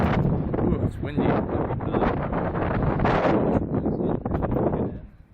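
Strong gusts buffet a microphone outdoors, producing a loud, continuous rumbling roar of wind noise that fades out at the end.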